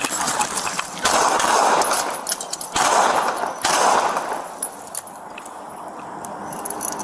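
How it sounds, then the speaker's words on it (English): A police officer fires his service weapon during a tense confrontation caught on dashcam, loud sharp bursts of gunfire in several rapid clusters followed by a quieter stretch, close and harsh with no talk. "The officer discharged his weapon"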